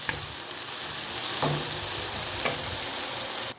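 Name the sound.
peppers roasting in a pan for menemen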